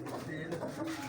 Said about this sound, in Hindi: ये कबूतर कौन से हैं जी?